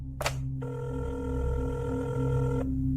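An old telephone handset is picked up with a sharp clatter, then a steady dial-tone-like hum rings out over a low background drone before stopping, with no talking.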